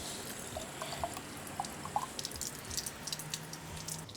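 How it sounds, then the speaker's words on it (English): Water pours into a container for a vintage hoodie wash, heard as a soft, close trickle with scattered small drips and splashes throughout, fairly quiet and with no speech. "So we're just going to pour a little bit of water in here."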